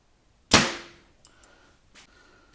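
Elite Rezult compound bow releasing a Victory VTAC 25 arrow through paper: one sharp, loud snap and punch, followed by a short ringing decay and a couple of faint, small knocks.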